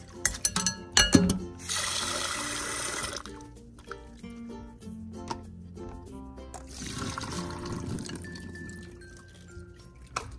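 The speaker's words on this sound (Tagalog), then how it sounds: "Banlawan pa po natin ng isang beses." Water gushes into a bowl in two bursts to rinse bagoong alamang, Filipino fermented shrimp paste, between clatters of kitchen utensils and soft background music.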